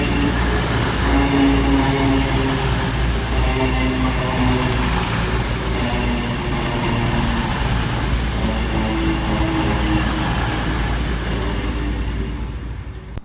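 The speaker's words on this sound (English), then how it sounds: "we see the arrival of 221129 arriving 5 minutes late with the 1703 cross-country service from Bristol Temple" A CrossCountry Class 221 diesel unit, 221129, pulls into Stafford station, its engine drone and wheel rumble loud and close, holding steady before easing off at the end as the train slows.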